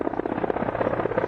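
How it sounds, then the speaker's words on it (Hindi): An aging Indian Air Force Mi-17 transport helicopter makes a steady, rapid rotor thumping, a close and continuous rhythmic beat. "भारतीय वायुसेना का बहुत पुराना हेलीकॉप्टर है। ये ट्रांसपोर्ट हेलीकॉप्टर है"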